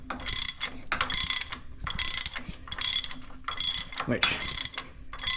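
A torque wrench ratchets in a series of close clicking bursts while tightening bolts on a White 4-270 tractor, the rhythmic pulses repeating with brief pauses.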